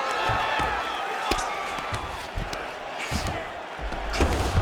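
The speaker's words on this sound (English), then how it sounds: "huge pop from the crowd as the fighters get back up to their feet" A video game crowd at a UFC 5 bout between Yair Rodriguez and Masanori Kanehara roars and cheers in a dense, sustained wash, punctuated by sharp thuds and slaps from the fight.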